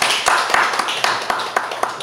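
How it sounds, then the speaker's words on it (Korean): A church congregation claps in welcome during a Sunday morning service: a steady, dense round of applause from many hands, fairly close and lively, with distinct sharper claps standing out at intervals throughout. "우리가 환영하는 의미로 한번 감사의 박수 드리겠습니다."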